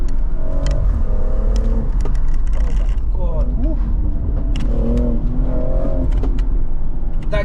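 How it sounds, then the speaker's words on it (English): A 2017 BMW 440i Gran Coupe F36 with a Stage 1 software tune and dual-clutch gearbox accelerates, its engine roaring and rising through revs in the cabin, loud and continuous, while occupants talk and exclaim over it. "Think about the sound. Okay, look, now it sounds like a proper M performance car."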